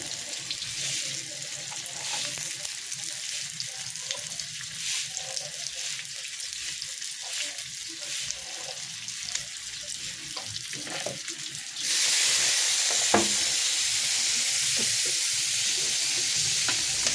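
Crispy pork stir-fried for a Thai holy basil dish sizzles steadily in a hot pan, a dense frying hiss that turns louder and brighter partway through, with occasional clinks of stirring.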